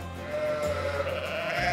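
A sheep bleats in a long, wavering call, close and loud against steady farmyard background noise.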